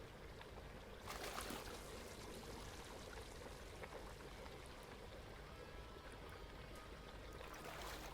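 Gun parts get a cold water rinse in Gunsmith Simulator, a quiet continuous trickling wash of water with a slightly fuller splashy swell near the start.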